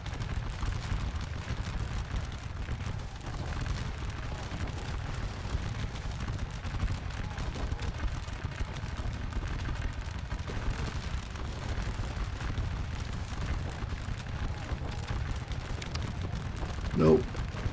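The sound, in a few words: artillery batteries firing in Scourge of War Waterloo video game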